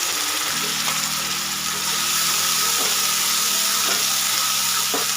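Ground masala paste frying in oil for a rustic fig vegetable dish, a loud continuous sizzle close by with a few sharp utensil scrapes and taps as it is stirred.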